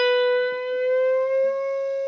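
A single sustained electric guitar note rings loud and steady, held as a string is bent up to reach the target pitch, with a faint low note shifting underneath and no voices.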